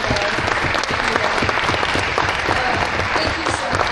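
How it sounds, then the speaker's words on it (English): A full conference audience gives a round of applause, loud, dense and sustained without break for the whole stretch. "Just want to give one more round of applause for each individual member today"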